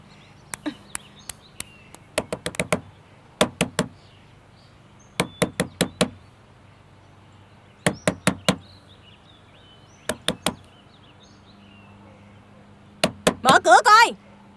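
Knuckles rap on a door in a Vietnamese TV drama, in quick clusters of sharp knocks separated by pauses. The knocks turn louder and more insistent, and a voice cuts in near the end.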